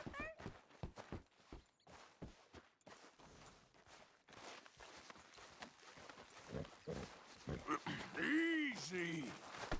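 A horse walking in Red Dead Redemption 2 gives a steady, close clip-clop of hooves, most distinct at the start, then blends with louder movement and a voice toward the end.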